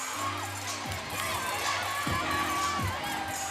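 Crowd at the ACC gymnastics championships cheering and calling out loudly in a big arena, a continuous roar with a few sharp shouts standing out.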